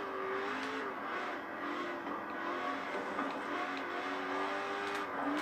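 A sports car engine in the Forza Horizon 4 racing game revs steadily with rising and falling pitch, loud and continuous with faint tire noise and no voices.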